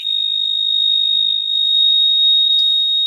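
A fire alarm sounds alone, a loud, steady, piercing single-pitched tone that holds unbroken for the whole stretch.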